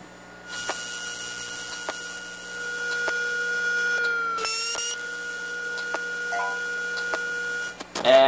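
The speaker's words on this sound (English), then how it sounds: "that was the sound of one of the chips on there failing and my pocket PC complaining low battery." A failing chip on a hard drive heard through an electronics stethoscope, a steady electronic whine with periodic ticks, then a burst of warbling tones, followed by a pocket PC's short low-battery alert beeps near the end.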